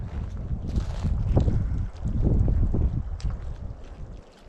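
Strong wind buffets the microphone on the shore of Flour Lake in northern Minnesota's Boundary Waters, a loud, continuous low roar that swells and eases in gusts with no talking.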